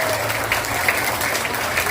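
An audience at the opening of a school mathematics and science olympiad semifinal at St. John Catholic School BSD gives sustained, even applause. The clapping is close and continuous from start to finish.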